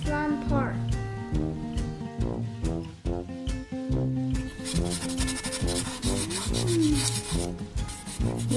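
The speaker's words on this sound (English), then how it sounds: "So the first step, we need sandpaper this front part." Sandpaper rubbing the front of a tin can from a tin-can calculator kit: a steady, close scratchy rasp running continuously beneath background music.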